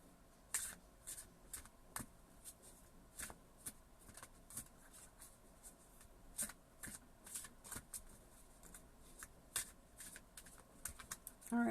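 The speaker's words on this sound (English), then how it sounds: "let's go ahead and let's pull some cards here" Tarot cards being shuffled and pulled, a steady run of soft papery riffles and sharp flicks and snaps at a close, quiet level, with no talking.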